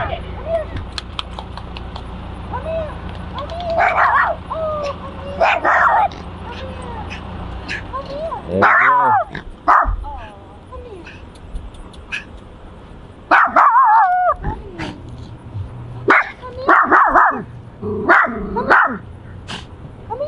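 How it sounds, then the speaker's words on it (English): A guard dog barks in several loud, sharp bursts spread through the scene, with voices talking in between and around the barks and some hoof-like clopping in the background. "Ferocious guard dog"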